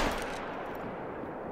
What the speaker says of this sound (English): Let's try and get a shot in at him real quick.